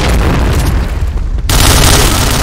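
A grenade goes off in a video game match: a dull gunfire-laced rumble fills the first second and a half, then a sudden loud, wide explosion bursts in and roars steadily to the end.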